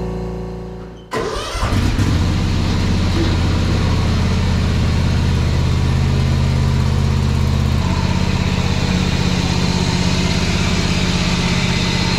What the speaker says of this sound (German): Rasenmäher wieder im Einsatz